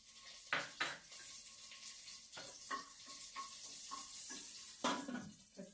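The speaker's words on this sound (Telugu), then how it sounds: "ఇప్పుడు పచ్చిమిరపకాయలు వేసేస్తున్నాను." Green chillies go into a hot pan for a French-style egg and eggplant curry, a soft sizzle punctuated by several close metallic clinks and scrapes of a spoon stirring, fairly quiet with no voices.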